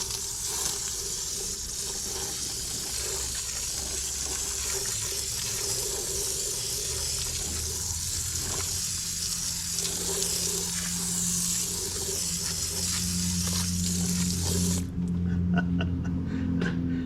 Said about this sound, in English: let's get the hose and rinser out.